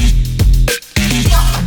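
A bright synth lead in a music production plays short repeated notes over a heavy bass-rich beat, loud and full, with a brief dropout in the middle.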